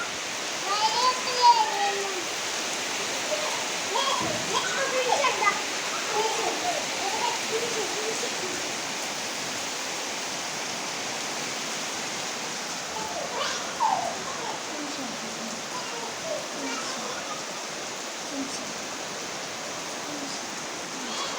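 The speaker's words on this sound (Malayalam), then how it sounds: "പുറത്ത് നല്ല മഴയാണ്" Dense, steady hiss of heavy rainfall pouring down, constant throughout with faint splashes, a voice speaking occasionally beneath it.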